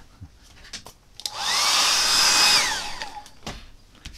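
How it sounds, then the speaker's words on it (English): A hair dryer switches on and blows steadily for about two seconds with a whooshing, whining hiss, then winds down, drying watercolour paint; light clicks and knocks come before and after. "Now I've dried that with my hair dryer"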